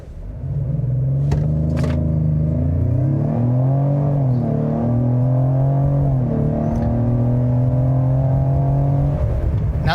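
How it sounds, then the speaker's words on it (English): A 2025 Ford Explorer's base four-cylinder engine accelerates steadily, a loud continuous guttural drone whose pitch climbs and dips through gear changes for about nine seconds, with no talking. "Even though it is a 4-cylinder, it makes some good sounds that has almost like a guttural sound to it."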